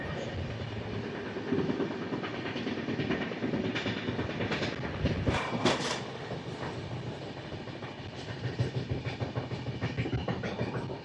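Machilipatnam–Dharmavaram Express (17215) running on rails near Guntur, a continuous rolling rumble with rhythmic clickety-clack wheel beats heard from aboard, no voices.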